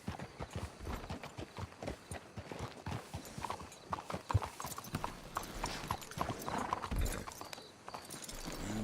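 Horses' hooves clip-clop steadily on ground in Red Dead Redemption 2, a continuous rhythmic stream of close hoofbeats with an occasional faint whinny.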